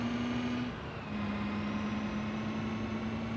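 A big-turbo cement mixer truck engine runs anti-lag, giving a loud, steady close-up drone with a strong low hum that dips briefly and then resumes.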